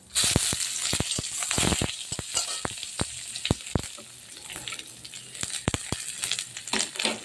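Chopped onions frying in hot oil with panch phoron, bay leaf and dried red chilli for masoor dal: a steady, close sizzle broken by sharp clicks and taps of stirring, with no talk.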